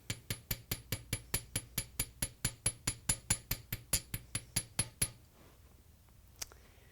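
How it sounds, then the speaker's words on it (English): Metal hammering flattening a wire spiral: about two dozen sharp, ringing taps in a quick even rhythm, then a pause and one last faint tap. "Hammering the whole spiral."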